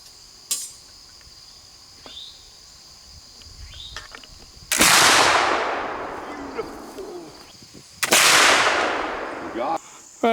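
Rifle shots fired at steel targets during a novelty shoot at a rifle frolic: two loud cracks with long ringing decays about three seconds apart, plus a few fainter distant pops and clicks.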